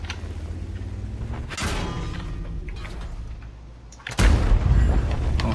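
Tank cannon fire during a World of Tanks match with a Jagdpanther II tank destroyer, two heavy booms over a steady engine rumble, the second one louder and closer.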